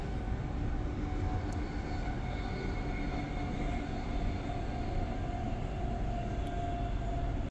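Suburban train rolling steadily through a residential stretch in Australia, with a constant loud rumble of wheels on rails and cabin hum filling the whole span without pause or voices.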